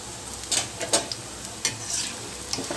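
Mint and curry leaf bondas sizzle in hot oil as they are gently nudged and turned, a steady frying hiss broken by a few soft scraping stirs close by.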